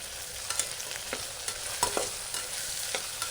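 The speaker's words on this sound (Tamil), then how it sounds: "அப்புறம் வெங்காயம்" Onions sautéing in hot oil and ghee in a cooker with whole spices, a steady fry with scattered crackles and stirring clicks, close and alone.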